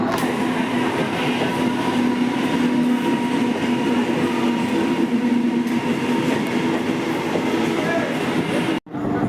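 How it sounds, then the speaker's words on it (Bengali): A Howrah–Haldia galloping local train rumbles past close by, its loud, steady roar and rolling wheel clatter filling the scene before cutting off abruptly near the end. "আমি যে গন্তব্যস্থলে যাব তার জন্য ট্রেন চলে গেল হাওড়া হলদিয়া গ্যালোপিন লোকাল"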